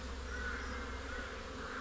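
Honeybees buzz steadily during an inspection of an overwintered beehive, a dense, continuous droning hum from many bees close by, with no voices over it.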